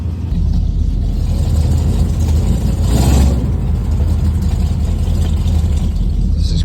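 The engine of an old pickup truck idles just after starting, a steady close rumble with a slight swell partway through.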